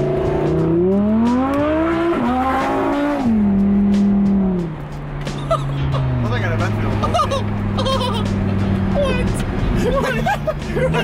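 A tuned Audi engine revs hard and accelerates close by, its pitch climbing through quick gear changes before settling into a steady drone, with people chattering loosely over it.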